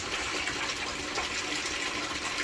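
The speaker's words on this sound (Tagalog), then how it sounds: "yung bukal ng tubig ayan galing yan sa bundok sa taas" Steady rushing natural spring water flows continuously down from a mountain in Barangay Bacong, a close, full-bodied gush with no pauses and no voices.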